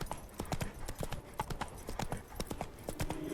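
Roach, Geralt's horse in The Witcher 3: Wild Hunt – Hearts of Stone, trots along with steady, even hoof clip-clops that repeat in a quick rhythm, moderately close and unaccompanied by talk.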